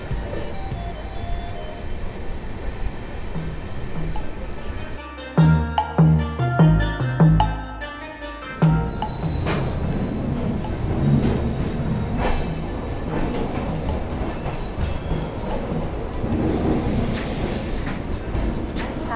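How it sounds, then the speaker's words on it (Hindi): Gujarat Sampark Kranti passenger train hauled by an electric locomotive on an electrified line, a steady rumbling roll with a burst of rhythmic wheel clatter over rail joints midway, then continuous loud rushing noise. "गुजरात संपर्क क्रांति इलेक्ट्रीफाई लाइन पे इलेक्ट्रिक लोकोमोटिव जो मैंने आपको शुरुआत में बताया था उसके साथ चलती है"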